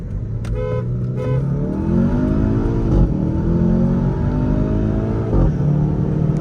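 A BMW 530d and a Skoda Octavia vRS accelerate hard side by side in a drag race from a rolling start, engines rising loudly through the gears with a horn toot near the start.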